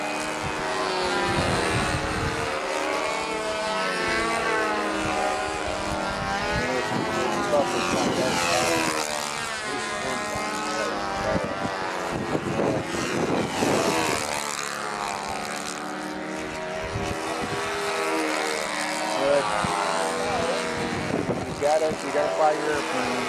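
Radio-control model airplane at a national competition passing overhead, its propeller engine droning and shifting in pitch steadily throughout, with people talking over the sound.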